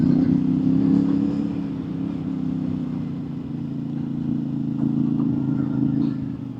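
A CFMOTO 450MT IBEX adventure motorcycle ridden off-road gives a steady, close engine drone with a low rumble and rattling clatter that swells slightly, running continuously without pause.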